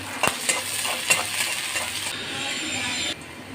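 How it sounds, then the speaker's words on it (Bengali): Chopped garlic frying in hot oil, a steady close sizzle with a few sharp utensil clinks early on; the hiss drops away abruptly near the end. "রসুনগুলো হালকা ভাজা হয়ে গিয়েছে"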